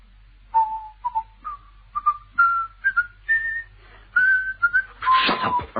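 A person whistles the Skye Boat Song, a slow, rising melody up close, the tune carried in a clear, pure tone with short pauses between phrases, ending in a brief noisy burst.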